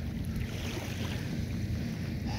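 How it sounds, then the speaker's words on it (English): Waves lapping at a park waterfront in Jersey City, a steady low wash of water mixed with wind rumble on the microphone, continuous and fairly faint with no talking. "Nice relaxing waves and everything."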